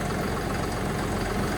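A steady low tractor engine rumble idles continuously while warming up, close and even, with no breaks or revving.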